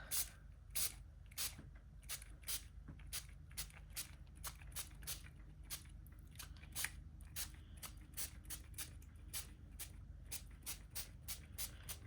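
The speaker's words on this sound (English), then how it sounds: "then it's really simple, because then I just spritz" Repeated short hissing spritzes from a Distress Spritz spray bottle misting onto cheesecloth, dozens of quick bursts in a steady irregular rhythm, close and fairly quiet over a low background hum.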